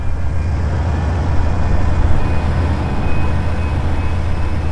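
Santa Fe Intermodal freight in the Trainz game, led by a B40-8W with a C44-9, a GP60B and GP60Ms, gives a steady low diesel rumble that drones on evenly without breaks.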